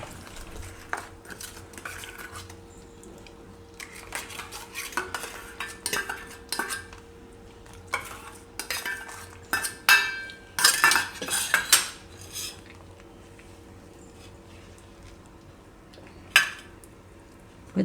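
A spoon stirring a bread rasmalai mixture in a metal pan, giving intermittent scrapes and clinks in uneven bursts, busier toward the middle, close and moderately loud with no talking.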